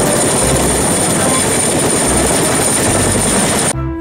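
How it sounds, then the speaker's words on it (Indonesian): Loud, constant whirring and chopping of a red toy helicopter's rotor, running steadily up close before cutting off abruptly near the end. "Ini helikopter."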